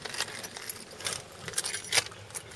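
Keys for a 1998 Dodge truck jangle softly and close up in several quick, uneven metallic bursts, with no talking.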